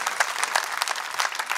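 An audience at an Armenian show breaks into steady, dense applause, many hands clapping together with no pause and no voices on top.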